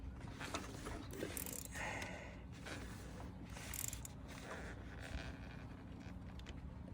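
A new spark plug is threaded in by hand on a Saab 9-2X Aero engine: faint, close metallic ratcheting and scraping clicks come in short irregular bursts over low background hum.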